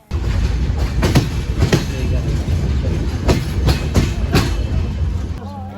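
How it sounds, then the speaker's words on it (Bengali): The Drutojan Express runs through Santahar railway station, a loud, close rumble with rhythmic clickety-clack of wheels over rail joints, fading at the end. "এই হচ্ছে আমাদের দ্রুতযান এক্সপ্রেস"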